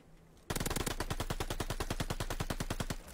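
Rapid automatic gunfire from a video game weapon in a ranked online match, a long unbroken burst of evenly spaced loud shots after a half-second of quiet.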